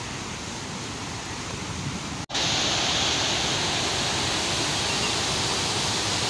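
Fast-flowing river below Curug Malela waterfall in West Bandung, a loud constant rushing roar of water with one brief dropout before it continues steadily.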